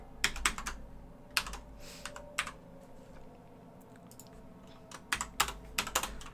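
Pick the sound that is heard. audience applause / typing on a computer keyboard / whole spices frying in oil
typing on a computer keyboard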